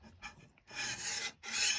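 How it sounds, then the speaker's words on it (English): A big flat file rasps across a metal surface in repeated strokes: two short, lighter passes followed by two long, loud, close-up scrapes with brief pauses between them, no voices. "a big flat file like that doesn't take off a whole lot of material"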